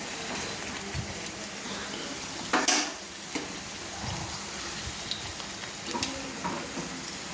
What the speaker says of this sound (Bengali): দেখুন একসঙ্গে আমি তিনটে করে ভেজে নিচ্ছি